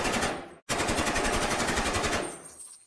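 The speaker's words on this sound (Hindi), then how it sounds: "कुछ ही सेकंड में भारी गोलीबारी होती है।" Heavy AK-47 automatic gunfire in an ambush on a blocked car: loud, dense, continuous bursts of rounds with one brief pause early on, then the shooting tails off.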